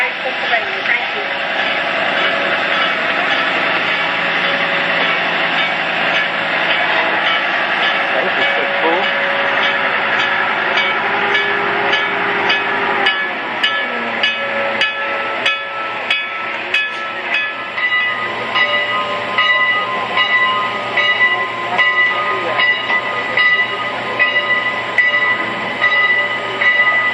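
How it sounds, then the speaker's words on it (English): The Lancaster Oxford & Southern passenger train, Car No 10, arrives at a station. A loud, steady mechanical rumble continues throughout, and a rhythmic clacking of wheels on rail joints runs through the second half. "Please stand clear of the tracks and allow this train to come safely into the station."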